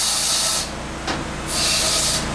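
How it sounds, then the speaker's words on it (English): Compressed air blasts through a valve guide hole in a Rover V8 Stage 4 Merlin cylinder head during machining, two loud bursts of hiss separated by a brief pause, close and alone. "the machine's waiting for me to blow out a valve guide hole"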